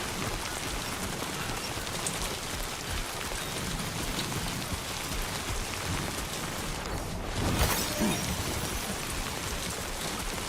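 Heavy rain pours down in the video game Death Stranding 2, a constant dense hiss of drops on the ground that swells briefly with a louder rush partway through.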